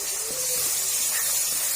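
Peas roasting in a pan for mongray aloo, a steady close sizzle and hiss that keeps going without a break.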